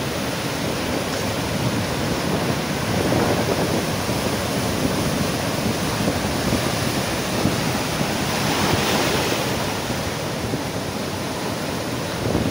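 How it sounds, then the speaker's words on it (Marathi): A rough, stormy sea at high tide off Mumbai roars continuously as large waves surge and crash nearby, with wind noise mixed into the steady, dense wash. No one speaks. "बघा लाटाचे स्वरूप बघा तुम्ही आता कितपर्यंत मोठ्या लाटा येतात त्या."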